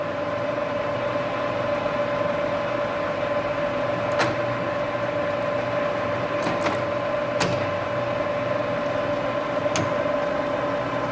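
Metal lathe running under power feed at 0.4 mm per rev, a steady motor hum with a constant whine, punctuated by a few brief sharp clicks near and alone without talk.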